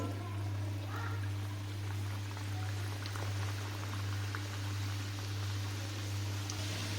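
Gujiya dropped one at a time into hot ghee, giving a steady close fizzing and bubbling frying sound with a constant low hum beneath, no voices.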